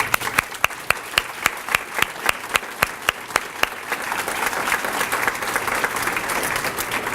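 Audience applause at an award ceremony: a steady round of clapping from a seated crowd, with some sharp individual claps standing out early on and the whole settling into a dense, even patter.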